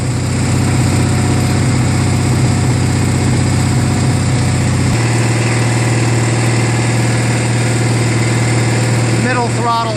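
A Murray garden tractor's opposed-twin engine, said to run rough with magneto ignition trouble, idles at slow throttle with a steady, close, continuous drone and a lower, heavier tone through the second half.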